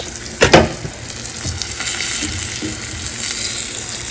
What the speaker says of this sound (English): We hear cute sizzling noises.